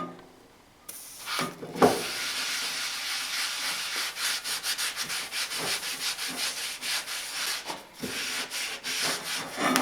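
Cast iron scrubbed with salt to remove rust, a steady close-up gritty rubbing with rhythmic strokes that continues nearly without pause.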